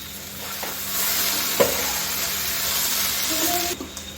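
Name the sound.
okra and potato stir-frying on full flame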